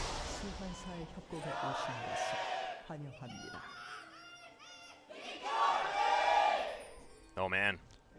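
An esports arena crowd at an LCK Spring Split League of Legends match roars and chants in support of BBQ Olivers, rising into a loud shouted surge near the end, with caster talk mixed in.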